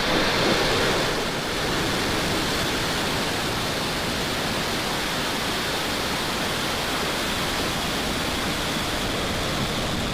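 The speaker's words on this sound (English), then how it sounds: "Ignition and liftoff." Rocket engines roar at liftoff during the Türksat 5B satellite launch, a steady, dense, thundering rumble that fills the whole clip at constant loudness with no voices.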